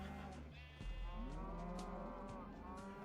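A Minecraft cow moos in a long, low, drawn-out call that rises and falls, loud and close, with no talk over it.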